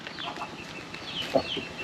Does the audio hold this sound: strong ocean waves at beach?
no